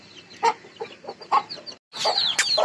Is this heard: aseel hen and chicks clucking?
yes